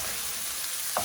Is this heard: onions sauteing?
yes